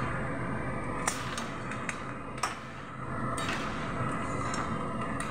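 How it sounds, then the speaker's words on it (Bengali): Crab sautéing with spices in a pan, a continuous sizzling hiss broken by a few sharp clinks of a utensil against the pan, close and fairly loud with no talk. "কাঁকড়াটা কষছি সব মশলা দিয়ে"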